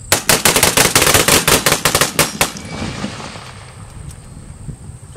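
An M1 rifle in .30-06 fired rapidly at an outdoor small arms demonstration, about fifteen sharp loud cracks in quick uneven succession, then stopping abruptly with only faint wind noise after.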